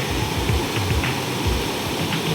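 River water rushes steadily past a small bamboo dam at Ilog Kamalig in Porac, Pampanga, a constant, close, broadband wash with no voices.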